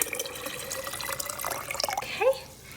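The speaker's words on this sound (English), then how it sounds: "what we are going to do is we are going to add our water" Tap water pouring through a funnel into a container, a steady splashing flow running on with small shifts before tapering off near the end.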